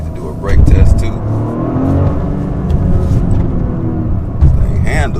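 Toyota GR Corolla accelerating hard on a road near a dealership, a loud, close engine roar with a rising pull heard from inside the car, while people talk over it.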